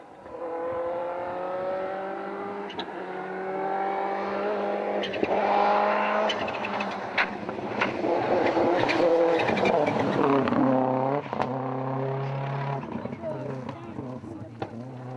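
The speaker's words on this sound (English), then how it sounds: "the Nissan of Tony Bardi was now going much better with a new steering rack fitted" A Nissan rally car on a stage of the Tour of Mull, its engine roaring steadily through gear changes and revs for the whole stretch, with a voice talking over it.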